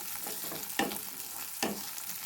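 Potatoes sizzling in a frying pan while cooking for a sesame fish curry, a steady close crackle broken by two sharp scraping stirs of a spatula against the pan, with no talking.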